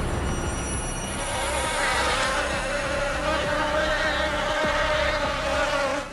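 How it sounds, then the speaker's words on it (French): Continuous buzzing drone from near a window indoors, steady and fairly loud with a faint whining insect-like tone, persisting for several seconds without any talking. "Ce bruit de bourdonnement là,"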